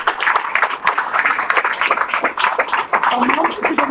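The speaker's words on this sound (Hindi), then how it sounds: "ताली जोर से बजाओ सर।" A crowd at a coaching-institute felicitation for two students breaks into loud, sustained applause, the dense clapping filling the whole stretch close up.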